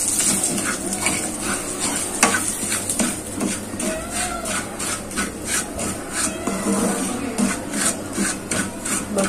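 Semolina roasting in ghee in a pan while being stirred, with continuous close rubbing and scraping strokes of a spoon and a soft underlying sizzle, moderately quiet.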